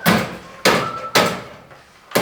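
A framing hammer strikes wood during basement framing work, four sharp loud blows at irregular intervals, each ringing briefly before fading.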